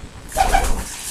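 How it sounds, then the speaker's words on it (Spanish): Young pigeon chick, about four weeks old and rescued from the street, gives a short soft cheeping call, close and alone, lasting under a second. "por el pío clásico que hacen los pichones de 4 semanas"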